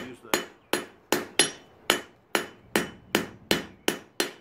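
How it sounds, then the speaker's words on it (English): A hammer strikes hot metal on an anvil during blacksmith forging, about a dozen sharp ringing blows at an even pace, each decaying quickly, heard close up with no talking. "do my last hammering on the bottom so that the anvil actually is smoother on top"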